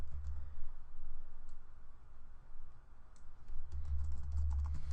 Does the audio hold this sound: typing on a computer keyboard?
yes